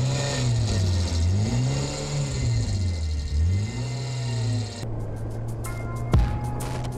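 Atrina all-terrain vehicle engine driving, a steady mid-pitched drone rising and falling in waves as the throttle changes, close and loud throughout, with a sharp clunk near the end.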